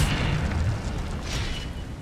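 An Incendio fire spell is cast in the Hogwarts Legacy video game, a deep booming whoosh of flame with a rumbling low end that carries through the whole burst.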